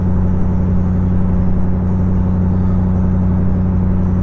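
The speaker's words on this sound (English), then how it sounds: "this is the first ride since I did the intake manifold" A Trans Am engine fitted with an LS2 intake manifold and a 92mm throttle body, heard from inside on a drive as a loud steady low rumble and drone that holds constant throughout.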